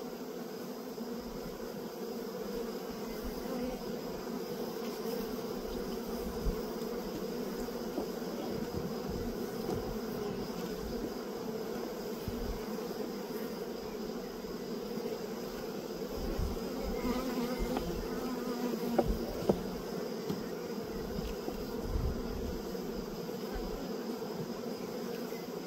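Honeybees from a swarmed colony buzz inside an opened hive: a dense, steady hum near the listener that runs without a break, with a few soft knocks and bumps now and then.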